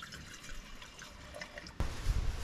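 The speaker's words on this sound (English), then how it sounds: "it's only fair I pour myself a drink" A drink poured into a cup at an off-grid bush campsite in the Swan Valley: soft trickling and dripping liquid close by, then a sudden louder, fuller splash of pouring near the end, with no talk.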